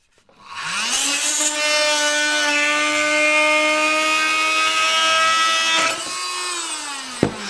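An oscillating saw cuts through wooden door frame trim to make room for new flooring. A steady buzzing whine starts after half a second and holds for about five seconds, then drops, and a single knock follows near the end.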